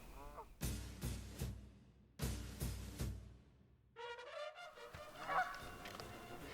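Two sets of three heavy bangs are followed by a flock of geese bursting into loud, overlapping honking close by, the calls layered and insistent until the end.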